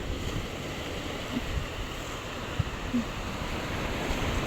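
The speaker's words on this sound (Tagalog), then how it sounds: "Malakas po yung alon." Strong ocean waves breaking at a beach, a steady broadband wash with wind buffeting the microphone and a few faint knocks, no voices.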